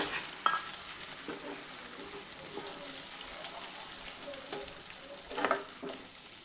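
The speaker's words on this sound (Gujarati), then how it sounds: "2 ટમેટાને આપણે ખમણીથી ખમણીને લીધા છે તો તેને આપણે નાખી દઈએ અને સારી રીતે મિક્સ કરી દઈએ" Grated tomatoes tossed into softened onions and stirred in a pan for a Gujarati sweet corn shaak, with a steady low sizzle and scraping spoon strokes, including a sharper clatter near the start and a louder burst toward the end.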